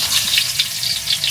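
Garlic and onion sauté in a hot pan with a bright, crackling sizzle and an uneven spattering hiss, close and fairly loud, with no talking.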